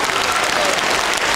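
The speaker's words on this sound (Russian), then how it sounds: "Аплодисменты для Шуры." Audience applause at a charity concert fills the hall, a steady dense wash of clapping from a crowd, loud and continuous throughout.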